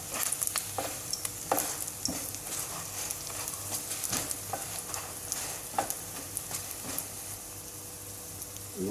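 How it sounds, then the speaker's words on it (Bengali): Drumstick leaf fritters frying in oil over low heat: a close, steady crackling sizzle with frequent small pops and stirring taps throughout. "এবার তাপটা একটু কম তাপে রেখে বেঁধে নিতে হবে তাহলে বড়াটা ভাজা অনেক সুন্দর হবে"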